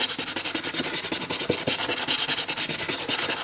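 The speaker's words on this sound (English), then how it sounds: "Roughen it up a little bit." Sandpaper roughens the plastic surface of a filament dry box in quick back-and-forth strokes, a close, steady scratchy rasping with a regular rhythm and no talking.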